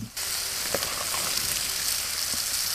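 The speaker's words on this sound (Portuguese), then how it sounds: "A linguiçinha terminando de fritar" Small linguiça sausages fry in a pan on a compact wood-burning stove built from a fire extinguisher, giving a steady, close, loud sizzle with faint crackles throughout and no talking.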